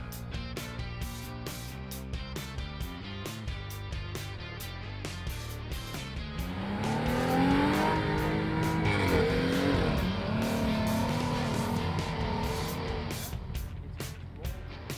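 A heavy full-size overland rig struggles through soft sand in Mexico's Altar Desert, its engine droning steadily and swelling louder midway as it strains for momentum, with no one speaking over it.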